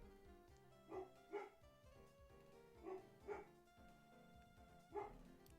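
A dog barks faintly in the distance, giving several short barks in quick pairs that are spaced a second or two apart, over a low background.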